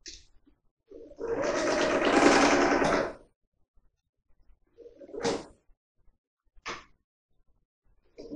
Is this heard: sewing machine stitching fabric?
yes